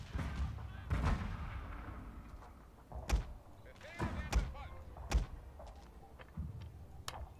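Zouave infantry fire on the battlefield in Total War, Franco-Prussian War setting: scattered booming shots and thuds at irregular intervals, some sharp and near, others softer and distant, over a low rumbling background.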